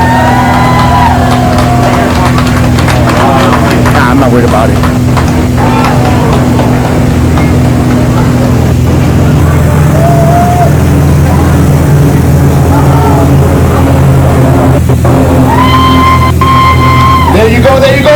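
Engines of military aircraft in a Veterans Day flyover, a loud sustained drone with rising tones filling the whole stretch, heard outdoors under a crowd's chatter and someone speaking briefly.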